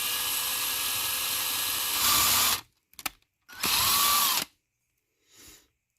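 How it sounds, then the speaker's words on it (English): A 1/16 drill bit bores screw holes in a Hot Wheels die-cast car, the power drill whining loud and close in a long run, then a short burst after a pause, ending with a faint brief whir. "To drill the holes for the screws, I use a 1/16 drill bit and just go really slow"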